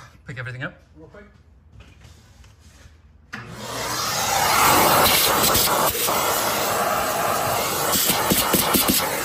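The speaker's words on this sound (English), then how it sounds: "Now we'll turn the vacuum on to pick everything up real quick." A shop vacuum switches on partway through and runs steadily and loudly to pick up debris during BMW i3 REX engine cover bolt work, following quieter talk and handling noises.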